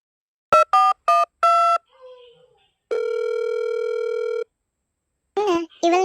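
Outgoing phone call on a mobile: a string of short dial tones and beeps followed by a long steady ringback tone, clean and close, with a brief voice-like chirp at the end.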